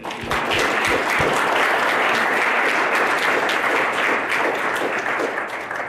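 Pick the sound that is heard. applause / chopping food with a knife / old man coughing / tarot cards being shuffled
applause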